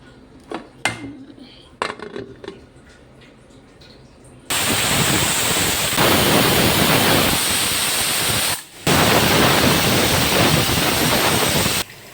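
A pressure cooker cooking mutton biryani whistles: a loud, steady hiss of steam bursts in after a few light clinks, running continuously with one brief break before resuming.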